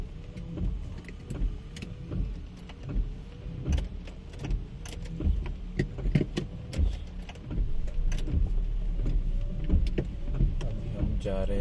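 Inside a car driving home through a town in Germany on a wet day, with a steady low engine and road rumble and scattered knocks and clicks throughout, and no talk.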